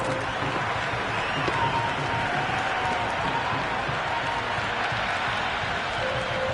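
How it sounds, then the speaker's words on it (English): A cricket crowd at Lord's during a Pakistan vs England Test roars with sustained cheering and applause after a six, a dense, continuous wash of noise filling the stands. "There is an almost tangible fervour throughout the crowd at the moment."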